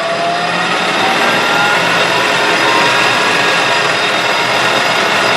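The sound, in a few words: metal lathe taking a light skim cut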